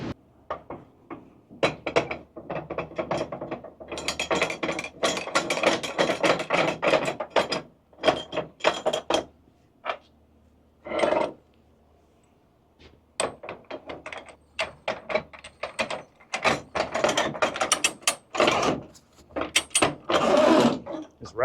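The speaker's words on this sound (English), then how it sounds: "This ratcheting winch bar" Ratcheting winch bar being worked on a flatbed truck strap, giving repeated clunky metallic clicks and thunks in uneven bursts with brief pauses, close and fairly loud.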